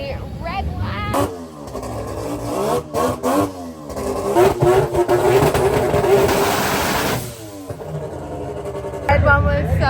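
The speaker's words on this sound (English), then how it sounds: "They are going to be revving the red one." A red drift car's engine revs repeatedly at a drifting event rev competition, rising and falling in sharp bursts with a sustained high scream, loud and close, with crowd voices and talk throughout.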